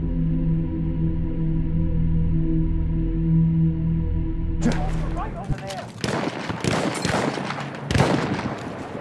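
Battlefield 1 sniper rifle firing in gameplay: a single sharp loud shot breaks a steady tone, followed by crackling battle noise and further bursts of gunfire.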